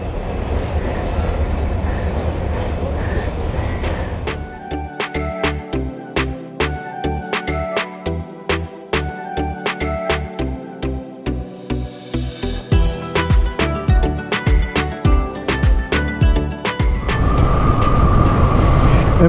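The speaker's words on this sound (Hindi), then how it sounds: "फाइनली ट्रेन आ गया भाई" A train rolls past a closed railway crossing gate in Meghalaya, its loud rhythmic clickety-clack of wheels over rail joints running for most of the passage, with metallic squeals and steady rumble close by and no talk.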